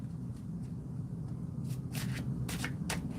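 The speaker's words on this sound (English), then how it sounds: "Let's get this shuffled one more time." Tarot cards riffle and slap together in a few quick bursts of shuffling during a live reading, heard over a low steady room hum.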